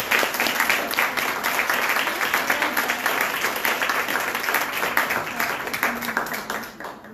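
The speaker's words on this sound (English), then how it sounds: "Let's give her a round of applause." An audience at an evening exhibit opening at Arkansas State gives a warm round of applause, with dense, lively clapping close by that runs steadily for several seconds before easing slightly at the end.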